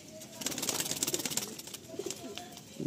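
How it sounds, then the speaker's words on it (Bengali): Madrasi pigeons in a loft coo briefly nearby, a short burst of low throaty calls mixed with a faint flutter of wings. "ভাইয়ের ঘরে শুধু পায়রাগুলো দেখুন"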